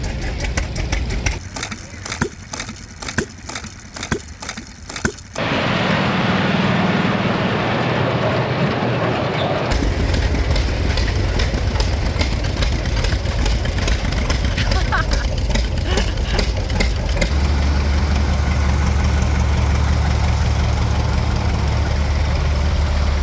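Old engines and tractors run at an outdoor display, a steady low mechanical drone that shifts as different machines come near, with idling chugs and a heavy low rumble in the later part.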